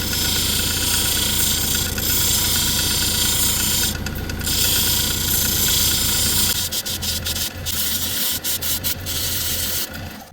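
A 140 grit Nova diamond wheel grinds and shapes soft brucite stone, giving a steady, close rubbing and sanding drone over a motor hum that breaks up into short choppy bursts toward the end.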